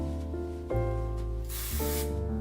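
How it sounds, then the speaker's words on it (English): Drybar Detox dry shampoo sprayed onto hair from an aerosol can, a close, steady hiss that swells into a brighter, louder burst partway through. "I'm gonna add a little bit of dry shampoo"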